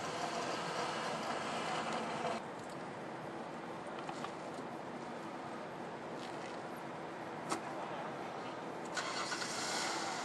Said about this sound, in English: I'm driving the truck away from it.